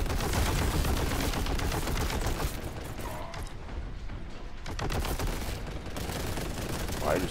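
Dense, continuous weapon fire in the Warhammer 40,000 Boltgun video game: rapid automatic bursts and heavy booming shots overlapping with mechanical clatter, loud and relentless throughout.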